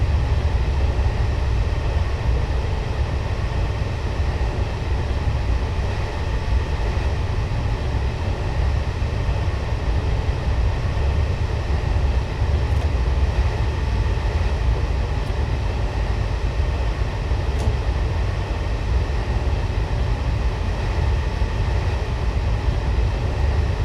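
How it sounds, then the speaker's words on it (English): A Class 221 diesel multiple unit coasting with power idled on a level stretch in Train Simulator 2015, giving a steady, loud low rumble of wheels and running gear that continues without a break and without speech. "I have just idled the power and I'm allowing the train just to coast along here."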